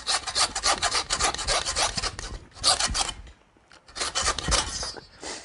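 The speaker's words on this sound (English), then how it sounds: "this is one place where I'm going to use my trusty saw" Hand saw cutting through the neck vertebrae of a skinned game animal, rapid raspy back-and-forth strokes, close and loud, with a brief pause before the sawing resumes; no talk.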